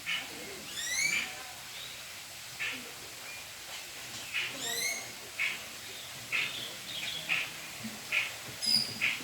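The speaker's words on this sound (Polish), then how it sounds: "Trzeba uważać na ptaki." Birds calling in jungle at an eco resort, with repeated chirping bursts and soft cooing notes spaced across the scene, moderately near over quiet ambience.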